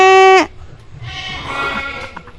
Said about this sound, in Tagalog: Ito nga pala ang kambing ng mga tito to.